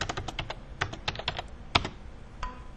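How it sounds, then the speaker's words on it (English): A job number is typed on an office computer keyboard as a quick burst of close, crisp keystrokes with a slightly sharper final press, over faint background noise. "So I'm going to type in my job number"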